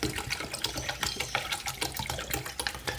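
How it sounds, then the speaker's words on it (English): Regular tap water poured into a 2.5 gallon planted aquarium tank, a continuous close splashing and gurgling stream for the whole stretch, with no talking. "This is just regular tap water we're pouring in here."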